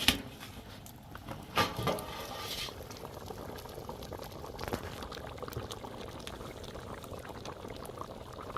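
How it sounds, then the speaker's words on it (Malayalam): A steady bubbling simmer of coconut curry in a covered pot fills the space, with a few lid and pot clatters early on, then continuous boiling alone. "തിളച്ച് നല്ല തിളയായിട്ടുണ്ട് തിളച്ച് തുറന്നു നോക്കട്ടെ"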